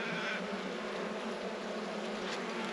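Honeybees from a struggling colony hum steadily around an opened hive during inspection of a floppy, unsupported brood frame, a continuous close buzzing drone with no talk.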